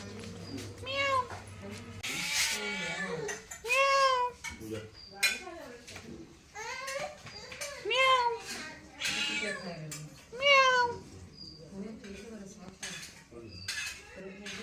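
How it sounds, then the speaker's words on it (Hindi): A cat meows repeatedly in a series of clear, close, drawn-out cries with short pauses between them, with a voice and faint household clatter behind them. "जब म्याऊं करो तो म्याऊं भी बोल रही थी।"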